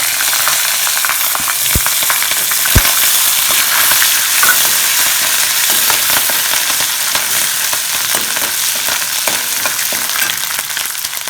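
Ginger, green chilies and curry leaves sizzle and fry steadily in hot oil in a pan, a loud, continuous crackling hiss with a couple of sharp pops, heard alone with no talking.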